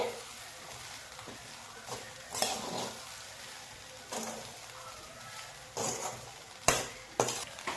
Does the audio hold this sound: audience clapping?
no